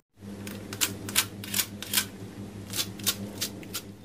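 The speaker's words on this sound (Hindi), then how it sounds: "पकौड़े कितने ज़्यादा क्रिस्पी हैं आवाज़ भी सुन ही लीजिए" Crispy egg and potato pakoras crunch close up in a series of sharp, irregular bites and snaps over a low steady hum, with no talking.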